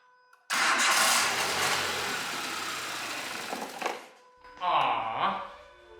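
A car engine cranks hard with a sustained grinding whir, stops, then cranks again in a shorter burst without catching; loud and close, alone with no talking.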